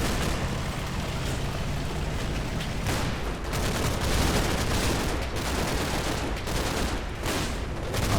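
In the Combat Mission: Battle for Normandy war game, a Bren light machine gun fires on a house amid loud, dense battle noise, with continuous rattling bursts and scattered blasts throughout.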